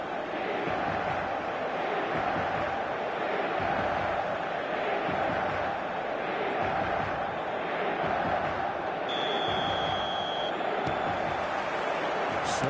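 A dense stadium crowd roars steadily at a football match in the eFootball video game, a continuous loud wash of massed voices with a brief whistle-like tone near the end.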